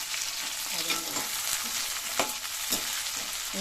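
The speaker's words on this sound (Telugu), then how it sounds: "టమాటా బాగా బాగా ఫ్రై కావాలండి కొంచెం పైన తోలు ఉడుకుంత వరకు ఫ్రై కావాలన్నమాట" Tomatoes frying in a pan for chicken gravy give a steady, close sizzle, with a few light stirring scrapes cutting through the constant hiss.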